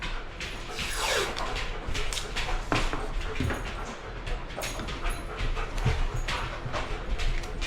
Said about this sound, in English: there's going to be some background noise with the dog walking around